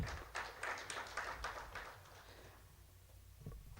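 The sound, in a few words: audience applause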